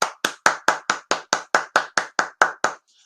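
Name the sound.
hand clapping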